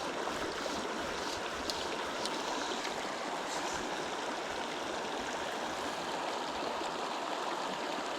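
Shallow stream water in a Yellowstone waterway flows in a steady, close, continuous rush with no voices.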